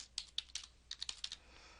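Quiet typing on a computer keyboard, a short run of about a dozen light, uneven key clicks heard up close and alone.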